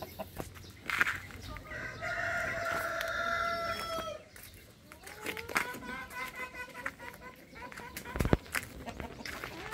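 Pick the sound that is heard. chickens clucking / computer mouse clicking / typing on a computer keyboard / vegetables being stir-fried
chickens clucking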